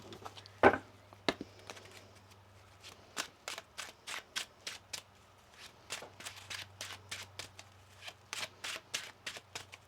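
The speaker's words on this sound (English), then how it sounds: "Let's get one more shuffle here for you." Tarot cards are shuffled close up in quick crisp riffles and taps, a rapid rhythmic series of papery clicks with a brief pause partway through.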